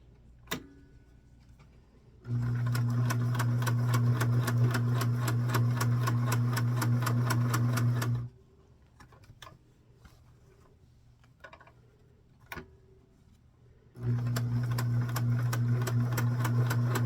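A sewing machine stitches down the back flap of a dress skirt, running in two steady mechanical bursts of rapid rhythmic whirring separated by a quiet pause with light clicks and fabric handling.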